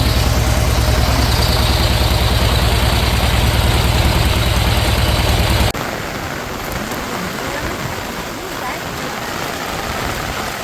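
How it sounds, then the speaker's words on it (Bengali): Heavy rain pours down in the Sundarbans while a boat engine drones low and steady beneath it. The engine cuts out about halfway through, leaving only the dense, loud hiss of rainfall. "এতটাই জোরে নেমে গেছে বৃষ্টি"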